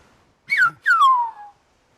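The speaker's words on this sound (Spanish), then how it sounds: "me dijo que le dijera yo cómo se decía pronto con el silbo" A word whistled in Silbo Gomero, the whistled language of La Gomera, given as two loud, clear whistled notes close to the listener, the second a long gliding fall in pitch, with no talking around them.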